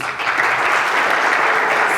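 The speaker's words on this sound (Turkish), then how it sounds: "Buradan hatta bir Ford'a da aslında bir alkış, bir alkış." Audience applause at a university talk, thanking a sponsor. Dense, even clapping fills the room at full strength for two seconds without a break.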